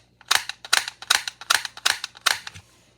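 A toy Glock pistol's blowback slide cycles in a steady run of about seven crisp plastic clacks, each a sharp snap with a quick rattle, close up and with no voices.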